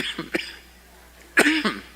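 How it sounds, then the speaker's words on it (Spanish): Two short coughs a second apart, close and fairly loud, with quiet room tone between them. "Perdón, la tos."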